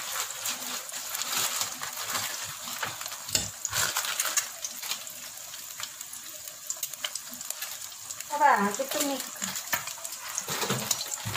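Mie goreng, Indonesian fried noodles, sizzling and being stirred in a pan at home, a steady crackling hiss with scraping stir strokes throughout, a brief voice breaking in near the end.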